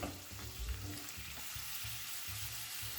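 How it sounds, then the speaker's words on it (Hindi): Green beans cooking together with potatoes in a pan for an Indian aloo beans sabzi give a soft, steady sizzle with a few light stirring scrapes and bumps, close by and without talk. "बीन्स को भी पकने में टाइम लगता है, इसको हम आलू के साथ ही पकाएंगे।"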